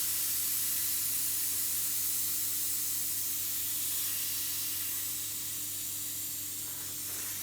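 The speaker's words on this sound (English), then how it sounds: "you're going to need something like either a screwdriver or a tyre lever, just to let the air out first of all" Air rushes out of the opened valve of an e-bike tyre, a loud, continuous close hiss that holds steady throughout and fades only slightly toward the end.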